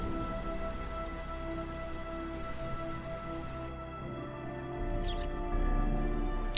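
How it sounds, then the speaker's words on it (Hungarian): Rain falls in the video game Heavy Rain, a steady, soft hiss of drops with a low, constant game ambience underneath and a faint brief squeak near the end. "Alattól esik az eső"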